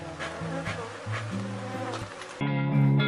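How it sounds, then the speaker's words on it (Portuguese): Africanized honey bees buzz during a hive split, with a dense, close drone that shifts in pitch and grows louder near the end. "vai muitas abelhas campeiras"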